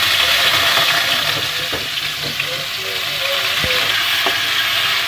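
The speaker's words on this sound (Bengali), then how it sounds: "ঘিয়ে চালটা ভেজে নেব।" Rice sizzling and frying in hot ghee with bay leaves, cashews and raisins, a steady close crackle with occasional stirring clicks, for Gobindobhog rice palm payesh.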